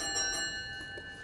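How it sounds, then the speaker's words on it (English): A division bell rings in the UK Parliament chamber during a Brexit update on EU withdrawal talks. It is a steady, faint, continuous ringing that stays in the background, and no one speaks over it. "I'll just give the bell a second."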